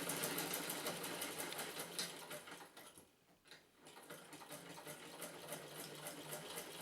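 A vintage Singer 15K sewing machine stitches steadily and close up, its fast mechanical whirring pausing briefly midway before resuming at the same even pace.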